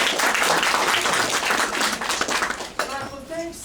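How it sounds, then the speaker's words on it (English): Audience applause at a breakfast seminar, steady clapping filling the room at moderate loudness, then tapering off as a voice begins under it. "Can we have a round of applause"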